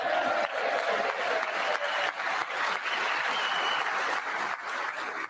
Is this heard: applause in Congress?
yes